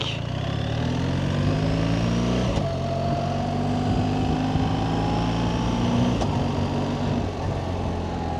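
A BMW R1300GS Adventure motorcycle riding in automatic mode, its engine droning and rising steadily in pitch with two brief clunky gear shifts, close and loud under wind rush, with no talk.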